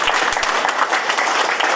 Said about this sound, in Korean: 우리 잘하시는 안 대표께 중간 박수 한번 드리죠